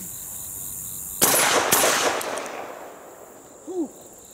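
A Browning Sweet 16 semi-automatic shotgun fires 16 gauge shells outdoors. Two loud sharp blasts come about half a second apart, then a trailing echo fades, followed by a short exclamation.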